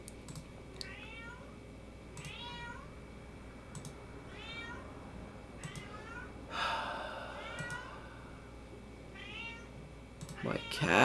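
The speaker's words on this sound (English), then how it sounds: "My cats keep meowing." Pet cats meowing repeatedly outside a closed room, about five or six drawn-out cries spaced every couple of seconds at moderate distance, with computer keyboard clicks and a louder thump near the end.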